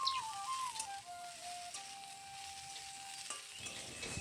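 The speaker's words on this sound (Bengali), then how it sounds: "বেগুন আর আলু একসাথে ভেজে নিচ্ছি।" Eggplant and potato frying together in a pan for a fenugreek-leaf curry, a steady soft sizzle with faint stirring scrapes, alone with no voices.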